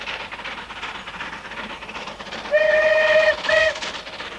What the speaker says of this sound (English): A lonely whistle in the wind recalls a multitude of memories for devotees of this railway in the hills